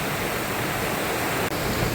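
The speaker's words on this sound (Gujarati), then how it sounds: "ડામરવાળા નદી આજે વધારે પડતી આવી છે અને વરસાદ પણ એટલો બધો પુષ્કળ ચાલુ છે." The swollen Damrvada river rushes along in heavy monsoon rain, a loud, steady broadband roar of flowing water with no pauses, close by and without voices.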